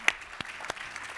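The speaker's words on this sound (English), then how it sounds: "applaud that" Conference audience applauding in a hall, a few sparse, faint claps over roughly a second, thin and scattered rather than a full ovation.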